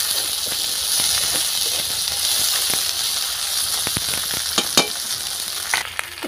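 Ginger garlic paste sizzling in hot oil in a pan while cooking a freshwater snail curry, a loud continuous hiss with occasional stirring clicks and spatters toward the end.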